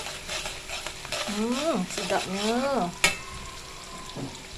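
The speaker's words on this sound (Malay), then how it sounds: "kita goreng sampai bau dia meletup ya" Sambal chili paste fries and gets stirred in a pan for nasi lemak, a steady sizzle with scraping stirs and one sharp clatter near the end, while a voice speaks briefly over it.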